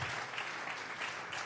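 Steady, dense applause from a church congregation, giving an offering of clapping in praise, fills the whole short moment at even loudness.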